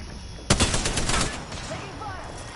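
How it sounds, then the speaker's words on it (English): Close video game gunfire erupts as a rapid burst of loud automatic shots lasting about a second, then fades into a quieter tail with faint background tones. "So these guys are shooting somebody over here."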